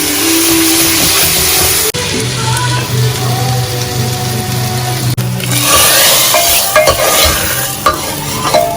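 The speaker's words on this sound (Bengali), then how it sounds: "ভালো করে এটাকে কষাতে হবে। এবার এর মধ্যে একটু নুন, হলুদ, জিরে গুঁড়ো, ধনে গুঁড়ো" A spice mixture with salt, turmeric, cumin and coriander is sautéed and stirred in a pan, giving a loud, steady sizzle and frying hiss with scraping stir strokes and a low hum underneath.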